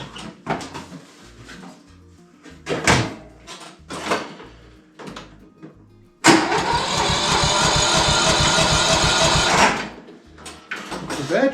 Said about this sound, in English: we're going to try and start the old estate car and see if it'll even turn over